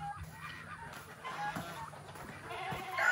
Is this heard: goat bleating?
yes